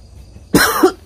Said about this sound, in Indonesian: Aku masuk sini malah kepengin batuk-batuk ya.